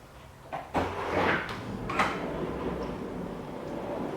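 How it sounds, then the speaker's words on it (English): A Bloomfield folding door on a sunroom is opened, giving a couple of soft knocks followed by a rolling, sliding rumble as the panels move along their track, close by and moderately loud. "Here is how I'll open this door."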